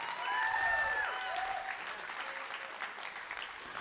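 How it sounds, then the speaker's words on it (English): A church congregation claps and shouts together, a loud sustained wash of applause with a whistle or high cry near the start, holding steady throughout. "Somebody clap your hands and shout."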